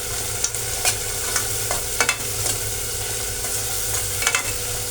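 Food sautéing in a hot pan, a steady sizzling hiss broken by scraping, clinking stirring strokes, close and alone without voices.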